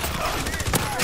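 A brief burst of rapid gunfire from a battle royale match in Call of Duty Warzone, with shots crackling close and loud in quick succession.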